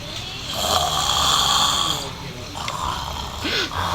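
A sleeping person snoring loudly, two long rasping snores with a shorter snort at the end, close to the listener, with faint voices underneath.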